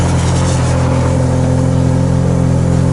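A wrecked Ferrari F430 with a manual gated transmission runs steadily after a jump start, its engine giving a loud, continuous mid-range drone with stable harmonics and a slight rise in revs, with no talking.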